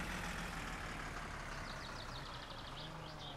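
Truck engine idling in the video game My Summer Car, a steady low rumble with a faint hiss and whine over it, continuous and moderately loud with no speech.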